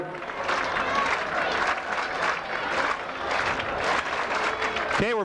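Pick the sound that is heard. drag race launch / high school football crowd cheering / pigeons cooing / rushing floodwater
high school football crowd cheering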